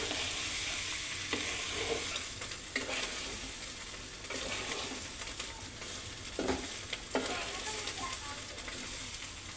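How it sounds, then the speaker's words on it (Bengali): Soaked, drained rice and lentils sizzle in a pot for khichuri, with repeated scraping stirs cutting through the steady frying. "এটাকে ভালোভাবে নেড়ে ছেড়ে মিশিয়ে দিতে হবে।"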